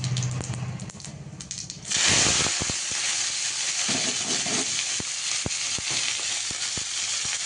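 Chopped onion, garlic, green chilli and coriander hit hot oil with cumin seeds and burst into a loud, steady sizzle, with occasional clicks of a spatula stirring in the pan, close and continuous.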